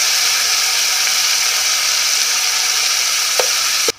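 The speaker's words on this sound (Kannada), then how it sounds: "ಸ್ವಲ್ಪ ಮೆತ್ತಗಾಗಬೇಕಿದೆ, ಅಲ್ಲಿವರೆಗೂ ಫ್ರೈ ಮಾಡಬೇಕು." Tomato chutney frying in a pan gives a steady, loud sizzle that runs almost the whole way through, with a couple of faint clicks near the end before it cuts off.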